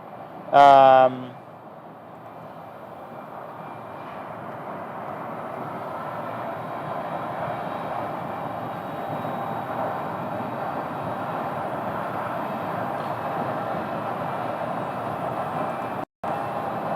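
An airliner landing at Phoenix Sky Harbor airport produces a broad, steady roar that swells gradually over many seconds after a brief loud burst at the start, heard from a distance.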